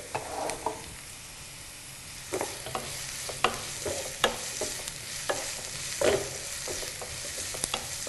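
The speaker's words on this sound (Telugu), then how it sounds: "ఆయిల్ లో ఉల్లిపాయ ముక్కలు వేగుతుండగానే పచ్చిమిర్చి ముక్కలు కూడా వేసుకోవాలి" Onion pieces and green chillies fry in oil for a potato cabbage curry, with a soft, even sizzle and intermittent scraping stir strokes growing more frequent, a spatula tapping the pan at close range.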